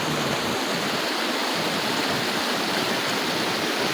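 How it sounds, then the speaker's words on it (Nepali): The Murti Khola, a mountain river beside village homestays, rushes in a dense, unbroken roar of flowing water that stays loud and even throughout, with no voices. "यसलाई चाहिँ मूर्ति खोला भनिन्छ"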